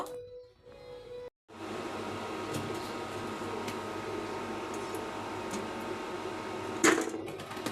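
An induction cooktop hums with a steady, faint electrical whine and fan-like hiss, close by and continuous, broken by a short dropout early on and a brief clatter near the end.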